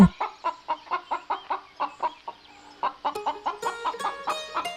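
A cartoon chicken clucks repeatedly in a steady, rhythmic series of short notes, close by, with a brief pause partway through, in a Bengali animated cartoon.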